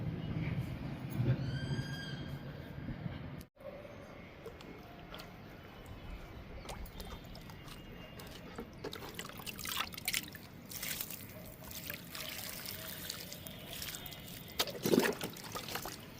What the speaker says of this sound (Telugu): ఇంకా ఈ కంపోస్ట్కి వాటర్ ఇచ్చేద్దాము.